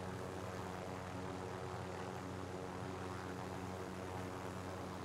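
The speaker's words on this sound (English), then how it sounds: "flying a helicopter on PC is not easy" A video game helicopter flies on PC with a steady, loud, droning engine and rotor roar that fills the whole stretch without a break. No talk is heard over it.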